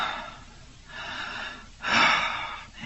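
A voice imitates strong, forceful breathing, a few loud breathy bursts with a pause between them and a stronger final gust, heard alone without speech.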